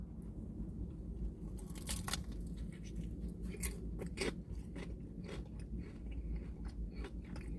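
A fried cream cheese wonton bitten into with a loud crisp crunch, followed by a run of close, rhythmic crunchy chewing that fades to softer munching.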